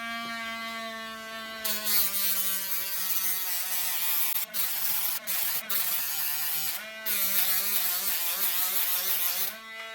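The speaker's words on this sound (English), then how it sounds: "what I was just doing there was sanding this" A steady, high-pitched whirring grind runs continuously as metal bicycle fork lugs are sanded, its pitch wavering slightly with brief dips as pressure on the metal changes; no talking.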